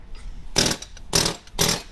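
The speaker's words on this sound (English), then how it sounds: "You use the air hammer and it makes life so much easier." An air hammer works loose the clutch fan nut on a van engine, firing in three loud, close bursts of harsh rapid hammering, each about a fifth of a second long, separated by brief quiet gaps.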